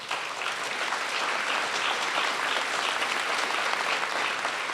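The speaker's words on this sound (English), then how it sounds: "I'd like you to give them a round of applause." A large audience at a governors' summer meeting claps steadily, a dense, even wash of applause that holds at the same level from start to finish with no talking over it.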